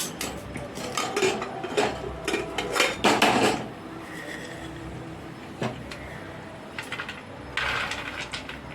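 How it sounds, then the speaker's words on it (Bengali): Popcorn pops inside a closed pressure cooker, sounding as irregular, muffled clicks and metallic rattles, clustered in quick bunches with quieter gaps between. "দেখুন, এটা ভেতরে পটপট করে আওয়াজ হচ্ছে"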